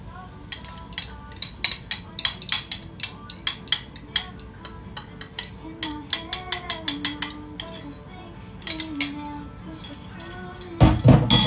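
Kitchen utensil stirring eggs into batter in a bowl, producing quick runs of bright metallic clinks against the rim in an uneven rhythm, close and fairly quiet, with a faint voice now and then in the background.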